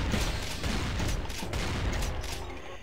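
A dense, continuous barrage of gunfire in Brutal Doom, steady and loud for a few seconds with no talking.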